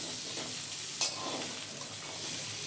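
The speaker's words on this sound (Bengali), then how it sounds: "সব কিছুকে একসাথে ভালোভাবে মিশিয়ে নিয়ে আরও 3 থেকে 4 মিনিটের জন্য ভেজে নেব।" Eggplant, bori and spices being stirred and fried together in a pan for a Bengali winter vegetable chorchori, giving a soft, steady sizzle with a scrape of a spoon around the one-second mark and no talk.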